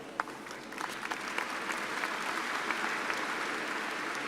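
Faint, dense applause from a commencement crowd during introductions, a steady wash of clapping that swells slightly, with a few sharper claps standing out near the start.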